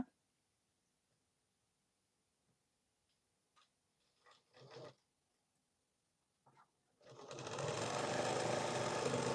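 A domestic sewing machine stitches a 40-inch blouse. A few quiet handling clicks and rustles come first, then the machine starts and runs in a steady, close, whirring burst for the final two seconds.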